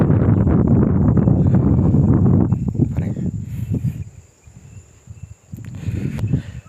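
Strong wind gusts outside at a hill campsite in Kolli Hills, a loud blustery rush buffeting the microphone at first, then easing and returning in weaker gusts, with faint insect chirping underneath.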